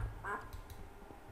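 A Minecraft-style video game duck gives one short, faint quack against quiet background game sounds, with no talking during it.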